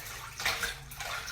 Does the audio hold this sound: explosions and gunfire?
no